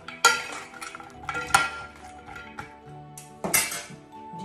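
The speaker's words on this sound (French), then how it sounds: "Je mélange à nouveau" A metal utensil scraping and clinking against a bowl while chives are mixed into a dish, with several sharp chinks at irregular intervals and softer stirring in between, close up and with no talking.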